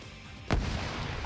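Grenade going off in a multiplayer Soviet-Afghan War combat game, a single sharp blast that rings out and fades, with faint background noise and nothing else around it.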